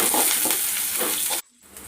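Curry leaves and fennel seeds sizzle loudly in hot oil, a close, dense crackling fry that cuts off abruptly.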